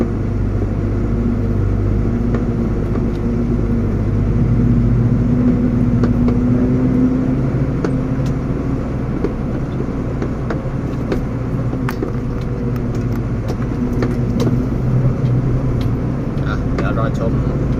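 A vehicle engine strains and loses power while pulling in second gear on a worksite, a steady low drone with a noisy rumble running throughout, with someone talking over it.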